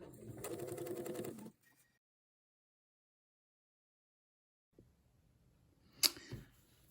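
A sewing machine runs in a steady burst for about a second and a half, stitching thick ric rac binding slowly, then stops; near the end, a short clatter and handling noises follow.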